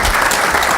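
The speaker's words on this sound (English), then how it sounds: "Everybody give him a round of applause." An investment club audience at a meeting claps in a brief, full round of applause, a close and steady rush of many hands.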